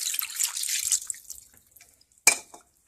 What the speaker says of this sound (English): We're going to add the water.